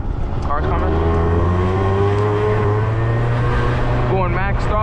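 A Yamaha Zuma 50cc two-stroke scooter held at full throttle on a road, its engine a steady, loud, buzzing drone with a slight rise in pitch, close to the rider and continuous throughout.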